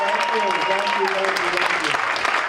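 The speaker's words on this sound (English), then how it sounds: "Give a round of applause for Sean LaFrancois" Audience applause for a comedian at a live stand-up show, a dense steady patter of clapping filling the room, with a voice speaking over it throughout.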